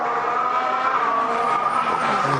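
Formula 1 race cars at the 2014 Australian Grand Prix with the quieter turbo engines of that year, a sustained high-pitched engine whine and tire noise carrying steadily, fairly loud and continuous without speech.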